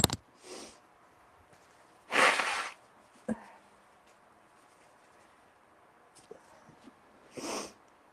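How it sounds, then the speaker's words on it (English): Someone blows their nose close by in a few sharp bursts, with a long forceful honk in the middle, a shorter one near the end and quieter sniffs and rustles in between, with no speech. "I gotta blow my nose."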